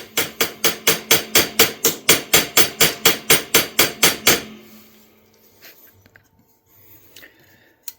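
A hammer drives pins into a vintage knife handle during a rehandling job: about sixteen sharp, evenly spaced strikes in quick rhythm, followed by near silence with faint handling noises.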